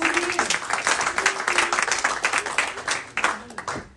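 A church congregation at a Sunday service applauding in praise, dense rapid clapping from many hands throughout, with voices calling out over it.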